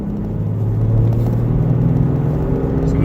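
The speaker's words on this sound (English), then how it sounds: "So what I'm planning to do is a third gear pull from 25 to 75." A Toyota Tacoma pickup with tuned ECU software pulls hard in third gear from about 25 to 75 mph, a loud, steady close engine drone and rumble with a rising tone and no pauses.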